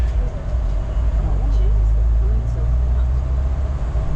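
A city bus engine drones steadily from inside the vehicle while riding around San Juan, Puerto Rico, a constant dense rumble with road noise throughout.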